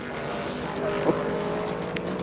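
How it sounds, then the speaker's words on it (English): Loud, raw race car engine roar drones steadily at close range, harsh and unmuffled with no muffler, with a brief rise in the middle. "in a race car they don't have mufflers."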